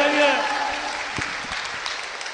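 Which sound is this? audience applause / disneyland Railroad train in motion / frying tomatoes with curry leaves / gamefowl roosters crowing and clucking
audience applause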